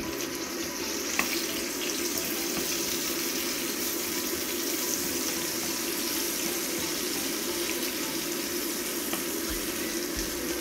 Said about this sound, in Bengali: অল্প করে একটু পানি দিলাম মাংসটা সেদ্ধ হওয়ার লাগে।